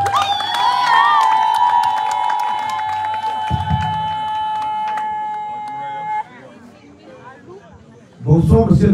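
A crowd at a political campaign rally in Minvoul cheers and shouts loudly with whistles and ringing tones layered over it, then drops to a quieter murmur before a loud burst of noise returns at the end.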